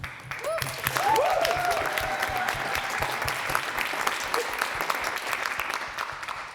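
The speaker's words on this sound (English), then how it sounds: "I'd love to thank you and to applaud you again for making that happen." Steady, full audience applause fills the room after a festival talk, dense and continuous throughout, with a brief vocal sound near the start.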